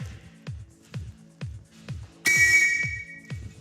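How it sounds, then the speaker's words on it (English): A sports whistle gives one loud, sustained shrill blast from about 2.3 seconds, cutting over a steady rhythmic thumping of star jumps in a magic show setting. "Point at it and blow your whistle whenever you're ready."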